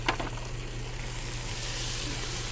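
Sausage and peppers with herbs sauté in a pot with a steady soft sizzle, and a brief stirring scrape comes at the start.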